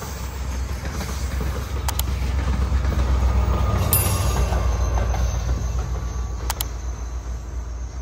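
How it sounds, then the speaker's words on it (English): The Alaska Railroad's Coastal Classic passenger train rumbles steadily past at close range near Cooper Landing on the Kenai Peninsula, a low continuous roar with faint metallic clicks and a brief wheel squeal, no voices. "This train passing us"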